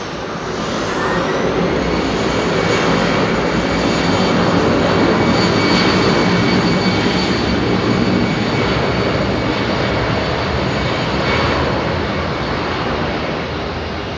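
A jet airliner engine roars loudly and steadily at Heathrow Airport, a dense continuous rumble with a faint whining, uneven grinding tone like a worn car wheel hub bearing.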